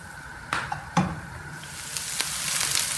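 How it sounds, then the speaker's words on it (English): Fish fillet and spinach sizzle in a hot pan, with a few sharp clatters of a utensil and a hiss that swells louder toward the end. "I'm frying both the fillet there and my spinach here"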